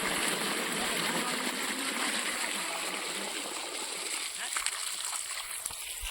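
Steady rushing splash of water pouring continuously from a pump-fed pipe, fairly close, with a voice talking faintly underneath.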